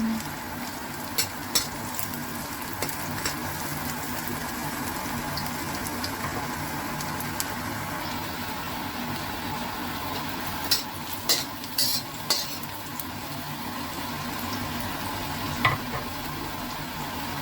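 Garlic fries in hot cooking oil with a continuous soft sizzle, broken by occasional sharp clicks and scrapes of stirring.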